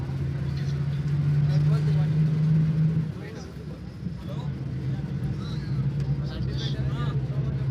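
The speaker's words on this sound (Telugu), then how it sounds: "బస్సు ఇప్పుడు ఆర్టీసీ బస్ స్టాండ్ వైపు ప్రయాణిస్తోంది." A bus travels on a road from Dharmavaram towards the RTC bus stand at Penukonda, giving a steady low engine hum and road rumble from inside the cabin, with the engine note easing after a few seconds.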